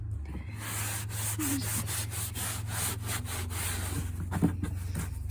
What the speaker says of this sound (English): I'm just kind of wiping down the panel here